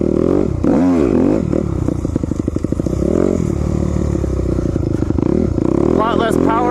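Dirt bike engine revving up and down during a trail ride, a loud close rasping buzz with pitch sweeps and rattly clatter, with a voice talking over it near the end.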